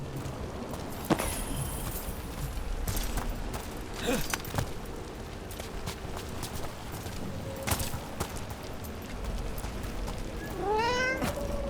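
A cat in the video game Dragon Age: The Veilguard gives a rising meow near the end, after scattered footsteps, clicks and game ambience.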